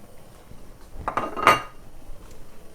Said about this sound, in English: then into the pot goes my measured 50 grams of onions, diced carrots and the mushrooms